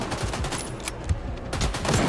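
Rapid bursts of gunfire crackle in quick succession, sharp repeated shots with brief gaps, loud and close, automatic weapons in the video game S.T.A.L.K.E.R. 2.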